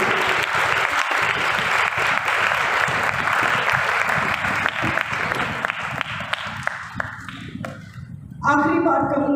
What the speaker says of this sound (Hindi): भरपूर तालियों में एक दूसरे को खुशी की माला पहनाइए।